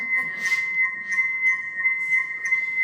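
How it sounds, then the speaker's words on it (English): Slowed-down sonification of brain microtubule vibrations: two steady sustained whistle-like tones held throughout, with faint airy bursts pulsing above them at a slow, regular pace. "this is the sound of your microtubules singing inside your brain"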